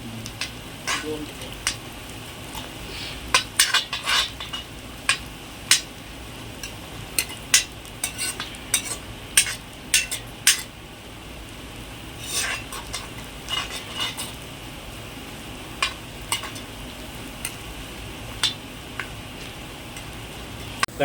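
Onions sautéing in a pan for chicken chukka, with intermittent sharp clinks of a metal spoon stirring against the pan over a soft, steady background hiss.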